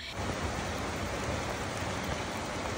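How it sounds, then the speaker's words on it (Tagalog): Heavy rain pours down in a dense, steady hiss that starts abruptly and fills the whole short stretch, with no voices. "bumuhos na ang malakas na ulan"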